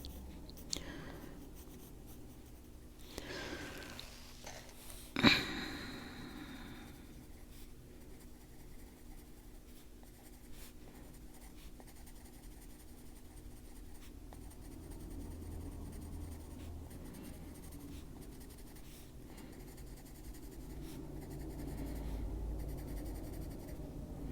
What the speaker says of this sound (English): make it look like a little bit of wood grain. Sharpest point on that pencil.